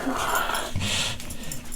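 A blind dog pants and makes low growly sounds close by, a steady breathy texture throughout with a brief deeper rumble in the middle.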